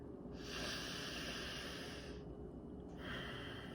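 A long, steady breath pushed out through the mouth or nose during a forehead yoga exercise, close and clear, easing off briefly before a second shorter exhale.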